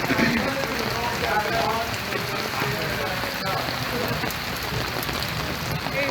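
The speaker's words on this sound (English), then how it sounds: "It was raining like crazy." Heavy rain pours down steadily, drumming on surfaces in a dense, constant wash of noise.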